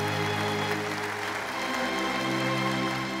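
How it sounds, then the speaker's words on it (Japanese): An audience claps continuously at a Rotary district conference, a dense, steady wash of applause from a large hall that holds an even level for the whole stretch. "では会場の皆様、改めてラジオの皆様に拍手をお願いいたします。"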